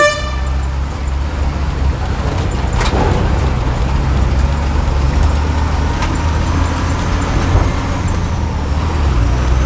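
A Tata 3118 BS4 truck with fault codes drives along, its diesel engine rumbling steadily low and close under road noise, with a brief horn toot near the start.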